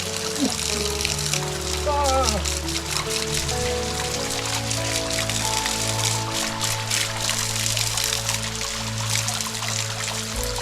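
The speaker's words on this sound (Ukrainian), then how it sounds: "Джерельна вода тут" Steady running spring water flows and splashes continuously, close by, with a humming tone and a brief voice-like sound early on.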